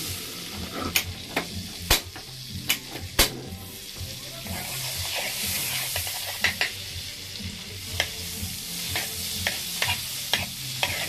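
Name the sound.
butter melting and sizzling in frying pan with sea food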